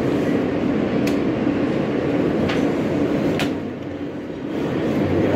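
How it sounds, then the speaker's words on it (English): Alstom R160A E subway train riding through a tunnel toward JFK, a steady loud rumble and hiss of the car with a few sharp high clicks and squeals along the track. "this is the E train we're taking to JFK"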